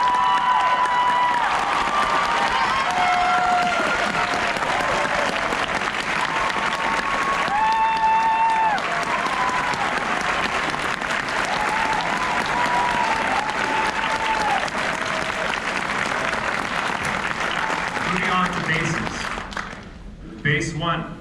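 An audience at a district chorus concert gives sustained applause for the choir's tenors, steady clapping and occasional cheers lasting about twenty seconds, with an announcer's voice and chatter mixed in before it tapers off.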